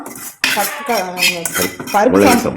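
Fried tempering of chana dal and onion tipped from a metal pan into a pot of radish sambar, with loud ringing clatters and scrapes of metal vessels and utensils throughout, no talking.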